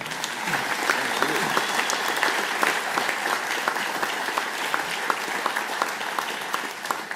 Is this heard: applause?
yes